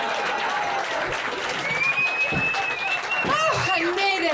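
Continuous audience applause for a singer at a cabaret comedy-and-song evening, moderately loud and steady, with whoops and voices rising above it near the end.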